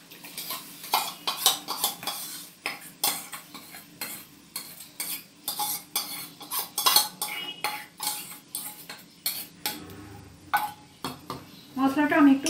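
Spice paste being added to a pan for mutton kosha and stirred, with a metal spatula clanking and scraping against the pan in irregular close strokes over a light sizzle, plus a brief cough and a little background voice.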